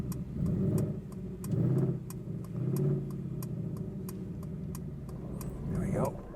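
A Mercedes G Wagon creeps forward under park assist with a low, quiet engine rumble and a steady ticking indicator-like click, and a person speaks over it.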